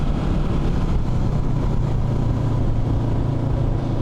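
A lightweight adventure motorcycle's mid-pitched engine churns steadily and close up, with a downshift and uneven throttle blips under a continuous rumble of riding and wind noise.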